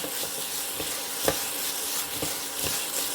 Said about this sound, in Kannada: ಇದನ್ನು ನೆಕ್ಸ್ಟ್ ಫ್ರೈ ಮಾಡ್ಕೊಳ್ಳೋಣ.